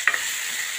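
Brinjal searing in hot oil for a village-style curry makes a brief, steady hiss-like sizzle with a faint clink at the start, heard alone with no voices.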